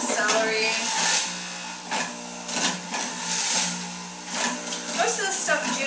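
An electric juicer grinding cucumber and celery, a steady whirring motor hum with surging pulses as the produce is fed in, while a person talks over it.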